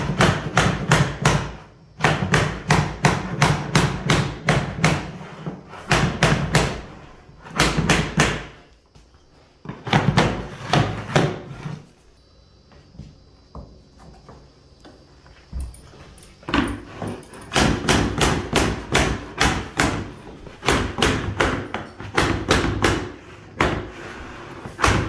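Vinyl plank flooring going in, with bursts of rapid, loud tapping and thumping from close by, broken by short quiet gaps and a stretch of softer shuffling.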